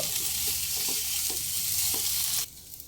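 Ghee potatoes with chaat masala sizzle steadily in the pan while a spoon stirs them with soft scraping knocks, then the frying cuts off abruptly near the end, close and without talking.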